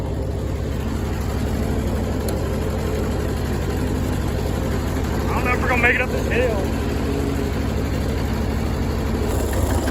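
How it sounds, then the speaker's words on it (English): Old Oliver tractor engine labouring uphill below full throttle, a steady low rumbling drone running throughout under nearby talk. "So the tractor doesn't really go full throttle."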